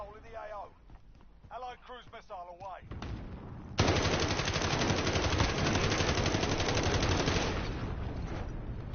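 Sustained rapid automatic gunfire in Call of Duty Modern Warfare Warzone rattles loudly for several seconds, following a stretch of someone talking over softer bursts of shooting.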